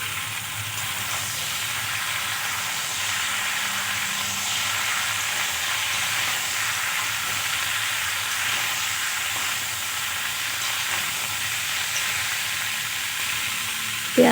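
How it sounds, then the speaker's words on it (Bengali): Chopped onions and green chillies fry in a pan with a steady, even sizzle and hiss that runs unbroken at moderate volume, heard close and alone without voices. "আর কেটে রাখা পেঁয়াজ আর কাঁচা লঙ্কাগুলোও দিয়ে দেবো। একসাথে আমি ভালো করে ভেজে নেব।"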